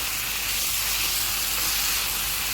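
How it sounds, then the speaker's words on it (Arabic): A Maggi stock cube is stirred into a hot pan, with a dense, steady sizzling hiss filling the whole short stretch, loud and close. "ادي قطعه الماجي ونديها تقليبه صغيره كده"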